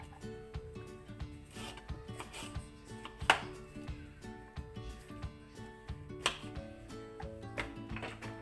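A knife chops bell pepper on a board in a steady run of close, crisp taps mixed with scraping rubs, quiet and without talk.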